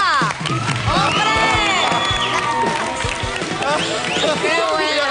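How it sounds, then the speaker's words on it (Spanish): A television studio audience cheers and whoops loudly for the famous red prawns of Garrucha, excited shouts and scattered clapping overlapping in a lively burst throughout. "¡Un aplauso para Garrucha, para sus gambas!"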